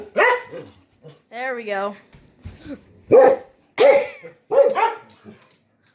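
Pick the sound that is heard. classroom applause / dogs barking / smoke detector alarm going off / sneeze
dogs barking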